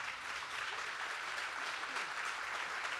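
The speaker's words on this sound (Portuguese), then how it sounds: "Palmas para a Martinha" Steady, faint applause from a book fair audience at a literary talk, a dense wash of many hands clapping evenly and at a distance, with no voices over it.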